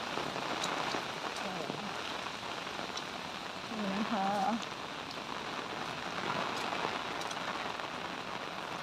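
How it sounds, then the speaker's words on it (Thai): Heavy rain pours steadily outside a house in a flood-prone area, a dense continuous hiss of drops on surfaces, with a brief faint voice partway through. "บรรยากาศฝนตก"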